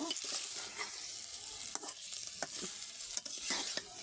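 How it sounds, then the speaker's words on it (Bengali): Pond-raised tangra fish fry loudly in a pan for an eggplant curry, hissing steadily as a utensil stirs them with repeated scraping clicks and taps. "আমি সুন্দর করে মাছটাকে কষিয়ে নিব"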